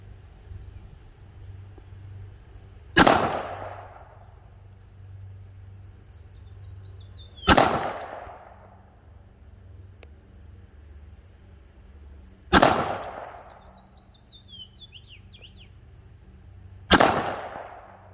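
A Glock 17 Gen 5 pistol fires slow, evenly spaced single shots at a 15-yard range, four loud sharp cracks about four to five seconds apart, each ringing out briefly over quiet outdoor background.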